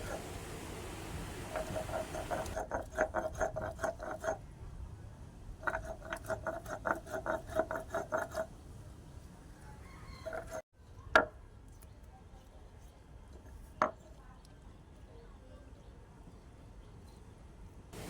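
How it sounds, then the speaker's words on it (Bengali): Poppy seeds finely ground into a paste for a Bengali hilsa fish curry, giving bursts of rapid gritty rasping and rattling strokes in two spells, then quieter with a couple of sharp knocks. "পোস্তটাও আমি মিহি করে বেটে নিচ্ছি।"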